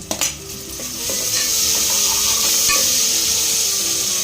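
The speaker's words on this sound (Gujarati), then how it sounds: "આપણી ડુંગળી સતરાઈ ગઈ છે" Chopped onions sautéing and sizzling in a pan for Surti lilva tuvar khichdi, a steady frying hiss with scraping stirs and light clinks of a spoon against the metal, close and continuous, with no talking.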